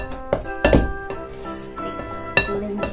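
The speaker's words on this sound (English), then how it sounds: "I'm going to use the knife" A knife clinks and taps against a bowl while mince pie mixture is blended, with several bright metallic chinks spaced irregularly and softer scraping between them, close up, with no talk.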